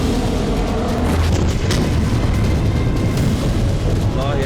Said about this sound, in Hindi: हमला इतना जबरदस्त था कि विस्फोट होते ही आसमान में कई 100 फीट ऊंचा मशरूम क्लाउड बन गया